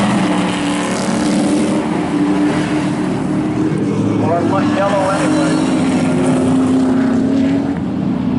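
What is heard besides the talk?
race cars racing on Monadnock Speedway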